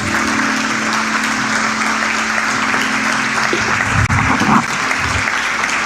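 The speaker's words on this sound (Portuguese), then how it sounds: "desocupe as tuas mãos e aplauda ao Senhor Jesus" A church congregation claps loudly in steady unison, with a low sustained musical drone beneath and a brief thump and swell near the end.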